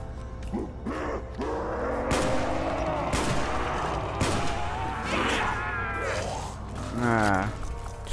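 Gunfire in a first-person shooter game, sharp shots scattered through the stretch with mechanical clicks and reload sounds, heard under a voice and game effects.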